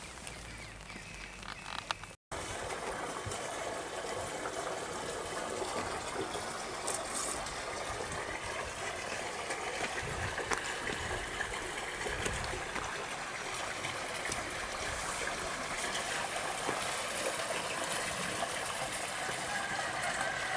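Rainwater runs steadily across a mountain ring road on a wet October morning, a constant broadband rushing and trickling close by that continues without a break, with no talk over it.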